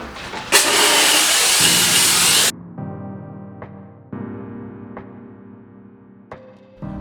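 A loud, steady hiss of a steam cleaner spraying onto a car's interior panel runs for about two seconds, then cuts off, leaving quieter tonal hum with a few soft clicks.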